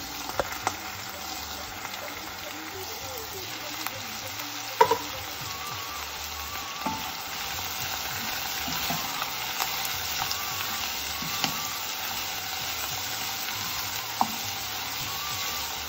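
Chopped onion browns uncovered in a pan for tempering a Kerala chana curry, giving a steady, moderate sizzle with scattered small pops and crackles throughout, and no talking.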